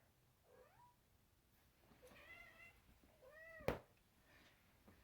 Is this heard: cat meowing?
yes